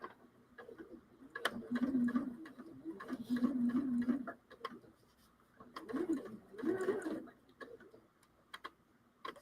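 A sewing machine stitches in short bursts, its needle ticking rapidly up close. The runs stop and start with quiet gaps between them, and the sound is faint.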